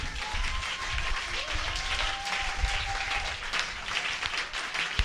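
Congregation in a church applauding together, steady dense clapping and crowd noise throughout, fairly loud and continuous with no break.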